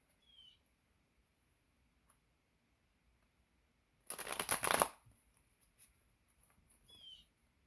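Tarot cards are shuffled in one short riffling burst lasting about a second, close and crisp against an otherwise near-silent room with only a few faint ticks around it.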